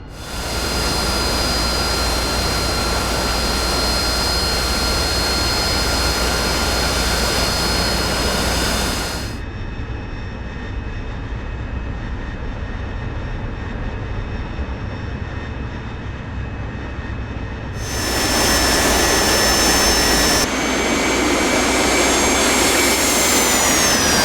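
An AV-8B Night Attack Harrier jet in a flight simulator roars loudly and steadily, its engine whine holding tonal lines throughout, dropping to a quieter hum midway before swelling again at full power with a falling pitch near the end.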